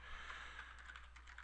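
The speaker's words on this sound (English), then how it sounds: "Excuse my typing." Quick taps on a computer keyboard while entering email addresses, a faint, rapid patter of keystrokes with no voices.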